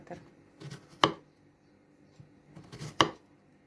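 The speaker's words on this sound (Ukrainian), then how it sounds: "Гарно їх вимиваємо і нарізаємо кільцями." Knife cuts through young zucchini on a board, slicing them into rings about 1 cm wide: two sharp, close chops about two seconds apart, with softer knocks and handling noises in between.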